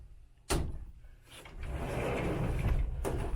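The bathroom door in a 2015 Forest River Wildcat Maxx 28RKX travel trailer shuts with a single close, solid thump, followed by soft rustling and movement nearby.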